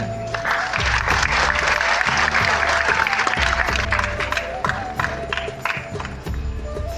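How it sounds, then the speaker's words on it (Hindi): Students at a Delhi University event applaud in a large hall, with sustained dense clapping over a low rhythmic background thump, loud and continuous throughout. "तालियां तो बजा दो यार।"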